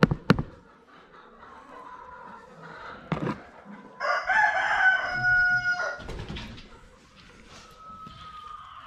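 A pet rooster crows near the workshop: a sharp knock and some clucking, then a loud, drawn-out cock-a-doodle-doo at close range, followed by softer clucks and a short call. Nobody speaks.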